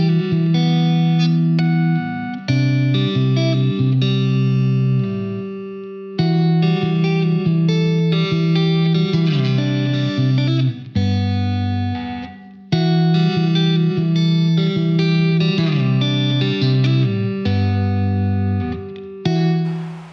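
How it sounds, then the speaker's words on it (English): A Fender American Vintage II 1961 Stratocaster electric guitar plays sustained chords and riffs through effects with some distortion and chorus, loud and close, with brief gaps between phrases and no talking. "That is the Fender American Vintage 2 1961 Stratocaster."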